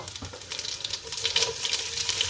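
Panch phoron spices hit hot mustard oil in a pan, producing a steady, close crackling sizzle with dense popping that builds slightly over a couple of seconds, alone without voices.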